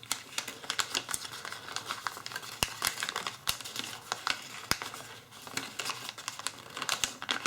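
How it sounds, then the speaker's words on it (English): Paper being folded and nudged into place while making an origami skull, heard up close as continuous crinkling and rustling with frequent sharp little crackles and snaps. "So just wiggle with the paper a little"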